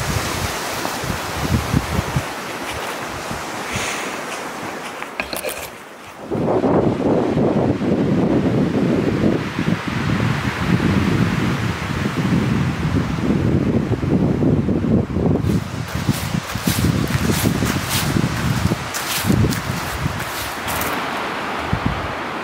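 Wind gusts buffet the microphone outdoors on a sunny, windy autumn day, a loud rushing roar that surges and eases in waves, with a brief lull before rising again and rustling throughout.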